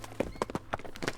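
Hooves of a horse in the video game Nancy Drew: Last Train to Blue Moon Canyon, a quick run of about six close, hollow clip-clop strikes in an uneven rhythm.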